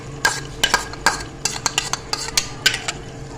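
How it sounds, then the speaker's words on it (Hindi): Yogurt being added to simmering mutton karahi in a pot, with repeated close scraping and clinking of a metal spoon against the pot and a soft sizzle underneath; no talking. "अब ये जो हमने इसका दही बना के रखा है ये इसमें डाल देंगे"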